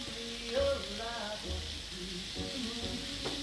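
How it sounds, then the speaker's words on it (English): Beef burgers sizzle quietly on a hot barbecue grill, a steady crackling hiss with a few faint clinks and scrapes in the background. "Sizzling away nice, straight up."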